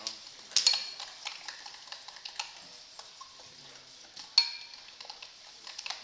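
A spoon stirs mayonnaise and chopped parsley together in a bowl for tortilla sauce, giving soft, irregular scraping and light clinking taps against the sides, with a couple of sharper knocks, fairly faint and close with no talk.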